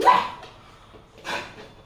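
A dog gives two short barks about a second apart, fairly close, with quiet room noise between them.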